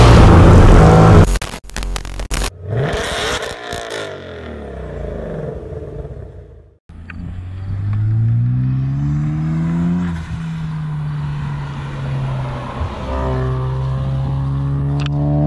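A boosted V6 Mustang with a manual gearbox is revved hard up close, the engine rising and falling in loud bursts, then pulling away with a climbing, shifting drone and popping exhaust.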